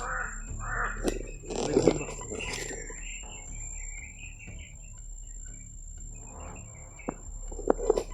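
A few harsh crow caws ring out in bursts from a tree outdoors, over a steady high insect drone and low background rumble.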